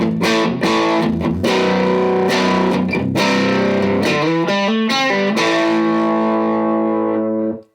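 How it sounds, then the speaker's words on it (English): An electric guitar played through an amplifier turned all the way up, loud and heavily distorted with overdrive, a series of struck chords and notes ringing out with sustain before the last one fades away. "And I get more distortion, more overdrive. This is it cranked up all the way."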